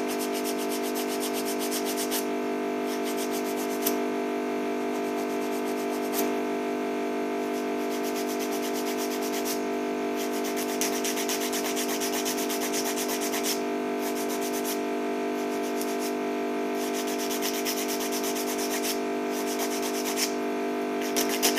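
An acrylic nail is filed with a hand nail file in steady, rapid rasping strokes, close and continuous with short rhythmic pauses, no voices.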